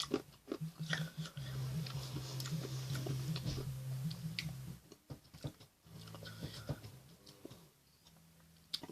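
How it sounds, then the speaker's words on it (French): Sour candy being crunched between the teeth, close and quiet, with irregular crisp bites and chewing clicks, some low humming mixed in and no talk. "Là pour le coup, je vais croquer."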